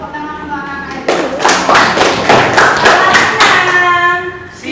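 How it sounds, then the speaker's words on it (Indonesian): Children applauding in a classroom, a burst of brisk, loud clapping lasting a few seconds and fading at the end, with voices before and after. "Tepuk tangan untuk anak-anak itu"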